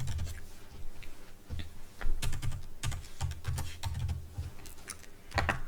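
Typing on a computer keyboard during an evening spreadsheet routine, with a steady run of close, crisp key clicks and a few heavier strokes, irregular in rhythm and without talk.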